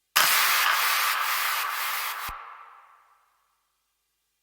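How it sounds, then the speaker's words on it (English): A loud, dense impact effect from an electronic dance remix drops in hard, then a bright noisy swoosh rings on and fades away over about three seconds, with a low thump near the middle. "basically it's some impacts"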